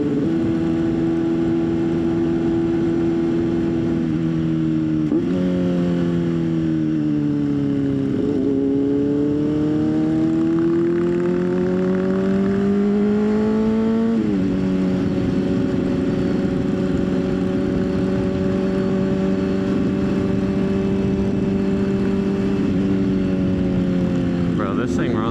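A motorcycle engine runs steadily under a rider, a strong harmonic drone that rises and falls with throttle changes and gear shifts, loud and close throughout with no talk over it.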